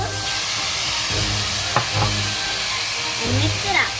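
Onions, chili flakes, curry leaves, pepper, carrots and potatoes are stirred in a hot pan, giving a steady close sizzle with scraping strokes of a spoon against the metal and a brief voice partway through.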